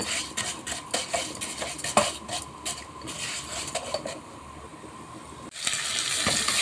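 Rice and vermicelli are stirred in a metal pot, a spoon scraping and clinking against the sides in an uneven rhythm, close and fairly clear, before a soft sizzling hiss rises near the end.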